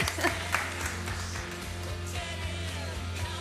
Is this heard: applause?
yes